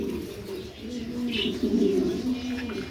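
Pigeons coo softly at a small home pigeon farm, a few low, throaty calls rising and falling over a quiet background, with a brief higher chirp midway.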